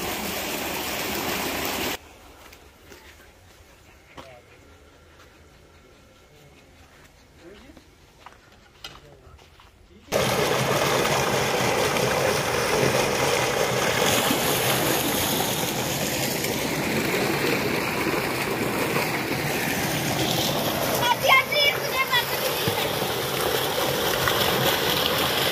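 Water rushes and splashes loudly and continuously at a farmhouse picnic where children play in it, after a quieter stretch near the start; voices are faintly mixed in.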